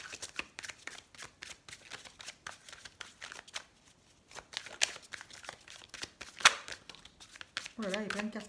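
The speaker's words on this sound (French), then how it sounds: "il y a plein de cartes qui tombent" Tarot cards shuffled by hand in a steady run of quick riffling snaps, a few louder slaps as cards spill and fall out, ending with a short burst of talk.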